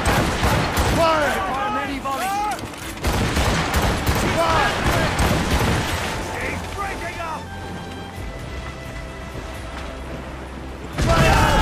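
Ship cannon volleys in the Assassin's Creed Rogue video game boom in rapid, overlapping salvos during a naval battle, with heavy rumbling blasts, crashing water and shouting voices throughout.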